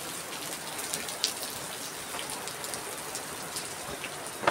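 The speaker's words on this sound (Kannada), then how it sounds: "ಮಳೆ ಮಳೆ." Rain pours down on a hill fort trek at Harishchandragad in Maharashtra, a close, dense, steady hiss with a few sharper drops standing out and no talking.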